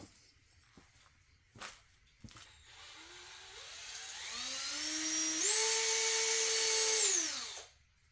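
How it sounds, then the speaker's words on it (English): A power tool reams a drilled hole in a Husqvarna 572xp chainsaw muffler. A few sharp knocks come first, then a whine spins up and rises in pitch, holds loudly, and cuts off abruptly near the end. "I'm going to ream this too."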